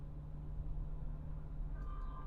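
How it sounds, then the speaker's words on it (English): Low, steady rumble of a passing train fills the background, continuous and fairly faint, with a brief higher squeal near the end. "I don't know if you can hear that, but that's the train."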